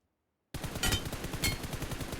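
Rapid automatic gunfire from PUBG Mobile played on an emulator breaks in abruptly after a moment of silence, a fast close burst of shots in steady rhythm with a couple of louder cracks.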